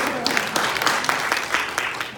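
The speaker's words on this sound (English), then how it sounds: "can we get a hand clap for Miss Arlene and Beth for putting this together?" A museum audience claps steadily, a moderate, even patter of many hands sustained throughout the short stretch.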